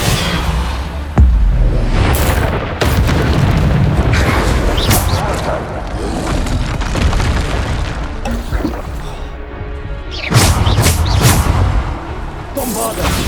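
Repeated Bombarda spell blasts in the Hogwarts Legacy video game, a string of loud booming explosions with whooshes and crashes, pausing briefly before another heavy burst near the end.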